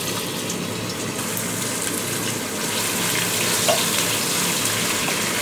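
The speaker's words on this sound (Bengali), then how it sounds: "পেঁয়াজগুলোকে গোল্ডেন ব্রাউন করে ভেজে নিতে হবে।" Chopped onions fry in hot soybean oil in a pot, a steady dense sizzle close by that swells slightly louder halfway through, with no talking.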